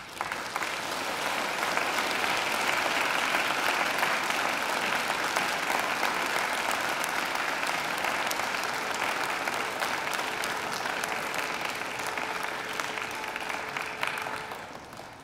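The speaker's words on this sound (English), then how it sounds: "And now I invite you to give them a mighty round of applause." Graduates at a Macquarie University ceremony give their families and friends a loud, sustained round of applause, dense clapping that holds for about fourteen seconds before tapering off.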